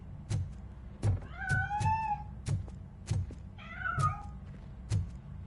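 A cat in the video game Robocop Rogue City meows twice, with rising then falling cries set among a series of evenly spaced dull thuds or footsteps, all fairly quiet and close.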